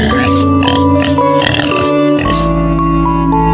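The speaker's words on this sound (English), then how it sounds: "This is a pig." A pig grunts and oinks in a few short, rough bursts, fairly close, over steady chiming background music.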